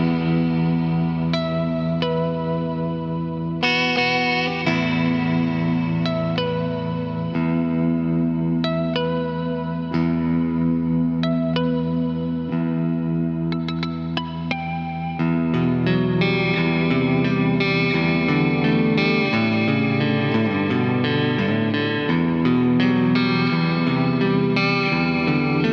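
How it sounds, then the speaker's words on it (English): An ESP LTD Kirk Hammett KH-V electric guitar with EMG pickups played through overdrive, tight compressed chugs and ringing chords with chorus-like effects and reverb, loud and continuous with no talking. "these pickups feel really nice to play with rigs that have kind of an overdrive in them, because it's just such a pushed, compressed type sound that the chugs are just ultra tight"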